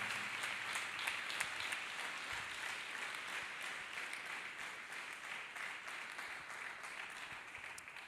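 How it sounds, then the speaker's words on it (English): A church congregation claps hands in worship, a steady, dense patter of many hands that is somewhat distant and soft and continues throughout without speech. "Let us clap hands for Jesus Christ, people of God"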